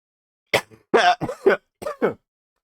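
A person coughs several times in quick, harsh bursts close to the listener, with brief pauses between them.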